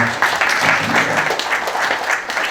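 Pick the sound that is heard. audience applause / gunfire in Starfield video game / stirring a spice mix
audience applause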